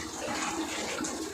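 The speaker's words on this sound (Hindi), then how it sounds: "पानी भरा रही है।" Water pouring steadily from a tap to fill a container in a home backyard, a continuous close rushing splash with no pauses.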